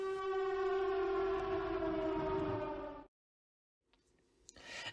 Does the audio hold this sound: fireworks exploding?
no